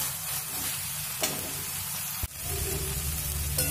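Grated coconut being sautéed in spice masala for a vegetarian taro-leaf dish: a continuous close hiss and crackle of frying, with a few brief stirring knocks partway through and no talking.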